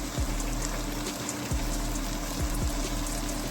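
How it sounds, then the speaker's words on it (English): Beef broth pours into a pot for onion soup, a steady close gushing, splashing flow of liquid with faint gurgles, continuous throughout. "I'm going to get your beef broth in here"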